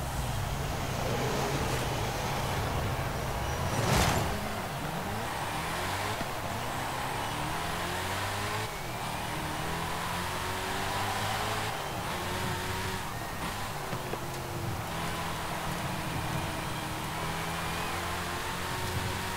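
A twin-turbo 7-litre V8 Saleen S7 LM in Forza Horizon 5 drones steadily throughout, with engine pitch rising and falling through gear changes, turbo whine and a sharp pop near the start, a loud continuous drive.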